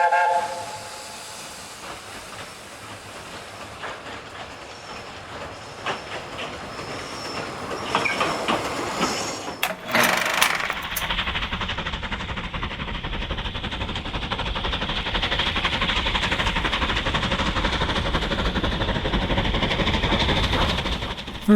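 Steam train on the Talyllyn Railway, with hissing steam and a sharp burst near the middle, then the train gets under way with a sustained rumble and chuffing that builds.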